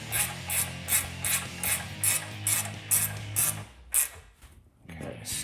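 A ratchet clicks in rapid, regular bursts while bolts on a Jeep Wrangler JL heavy duty steering kit are snugged, close and crisp, then stops for a few quieter clicks and handling noises at the end.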